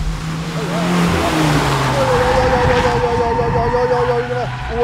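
A go-kart engine revs and whines on a track, its pitch sliding up and down through the laps, loud and close, with voices talking over it throughout.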